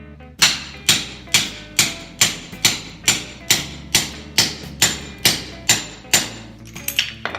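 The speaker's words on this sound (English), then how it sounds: "We're gonna hammer on the top of the socket until it breaks free." Repeated hammer blows on a socket seated over a stuck locking lug nut, with a rod underneath; about a dozen sharp, loud metallic strikes in steady rhythm, close by, ending with a few lighter taps.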